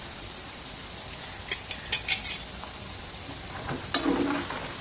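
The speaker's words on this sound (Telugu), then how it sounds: "చూడండి, ప్రతి ఒక్కటి కూడా పగులుతుంది, బాగా వేగుతుంది" Peanut pakodi deep frying in hot oil, with quiet sizzling and a scattering of sharp crackles and pops, then a brief burst of bubbling near the end.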